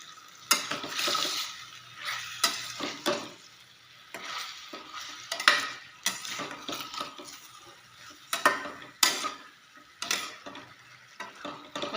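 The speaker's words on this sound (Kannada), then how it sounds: "ನಾನು ಅರಿಶಿನ ಹಾಕ್ಬಿಟ್ಟು ಸ್ವಲ್ಪ ಫ್ರೈ ಮಾಡ್ಕೊತಾ ಇದ್ದೀನಿ" Chicken frying with turmeric in a pan, stirred with a metal spoon: a soft sizzle underneath repeated sharp scraping and clinking strokes against the pan, close and fairly quiet, with no talk.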